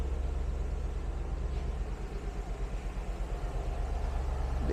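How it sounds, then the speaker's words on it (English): A 2017 Ford Mustang GT Premium V8 idles steadily and close by, a deep low rumble holding even throughout with no voices over it. "The engine sounds really, really, really nice."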